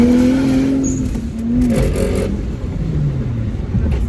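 A Lexus IS300 engine revving steadily at close range, its pitch rising and then dipping as it settles, with a constant loud, intimidating rumble.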